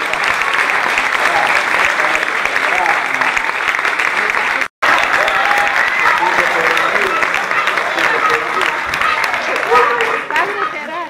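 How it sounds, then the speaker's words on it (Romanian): An audience applauds a child named Amalia at a children's opera performance, with dense sustained clapping that cuts out for a moment, then resumes and fades near the end. "Aplaudați-o pe Amalia."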